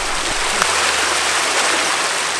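A waterfall near a mountain campsite at Golden Ears gives off a constant, broad rushing hiss with no breaks, close and fairly loud.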